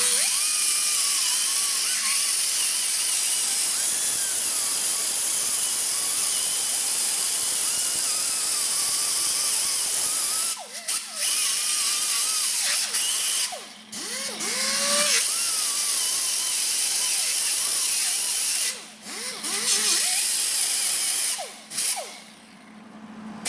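Grinder working on a rattling exhaust part under a Subaru Forester, a loud continuous high-pitched whine that drops out briefly several times near the end.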